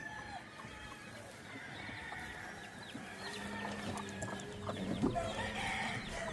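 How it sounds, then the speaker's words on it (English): Kelso 20 grand hens and a rooster cluck and call on a farm, with scattered bird vocalizations over a faint outdoor background and a brief louder squawk near the end. "That's a Kelso 20 grand rooster, and this is Kelso 20 grand hens and rooster."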